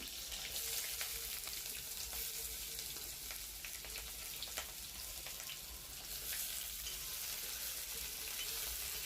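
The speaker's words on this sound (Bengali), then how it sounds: "তেল দিয়ে দিচ্ছি তো তেলটা একটু গরম হবে একটা লঙ্কা দিয়ে দিয়েছি এবারে আলুগুলো প্রথমে দিয়ে দিচ্ছি" Potatoes frying in hot oil in a wok with a green chilli, a steady bright sizzle running throughout at moderate loudness, with occasional stirring clicks and no talking.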